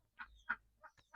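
Sparrow chicks in a nest built inside an old boot hung against a tin sheet give a few faint, short chirps, spaced irregularly over near silence.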